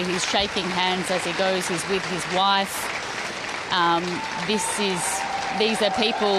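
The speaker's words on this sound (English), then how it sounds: "clapping behind me" Sustained crowd applause, dense like rain, carries on as Andy Burnham, newly appointed British prime minister, walks past shaking hands. A reporter speaks continuously over it.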